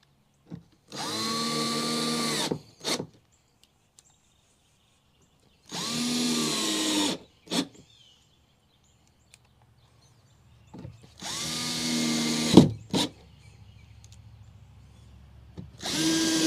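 A power drill drives screws into wood while framing deck storage boxes, three separate whirring bursts of about two seconds each with short pauses between them, close and loud, and no talking.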